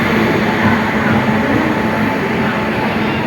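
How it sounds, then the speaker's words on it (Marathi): A Sawantwadi-bound train at crowded Panvel station gives off a loud, steady rumble with a low mechanical hum. It continues without a break and has no speech over it. "आम्ही सावंतवाडी ही ट्रेन पकडतो आहे"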